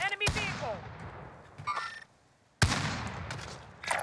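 Gunfire in Call of Duty Warzone, scattered loud shots near and far with a burst of rapid fire, mixed with game noise and voices talking over it.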